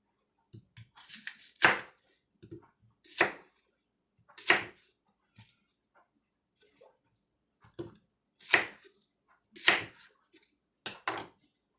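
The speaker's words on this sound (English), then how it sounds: "we'll come back after I have these all chopped up" Knife chopping apples for applesauce on a homestead kitchen board, a slow series of sharp, close chops and taps separated by pauses of a second or more, with faint small knocks between them and no talk.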